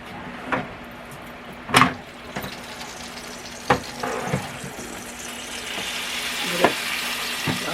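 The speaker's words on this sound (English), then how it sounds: "I'll hear that sizzle." A T-bone steak sizzles inside an air fryer, a soft continuous crackle broken by several sharp clacks and knocks, close and fairly quiet.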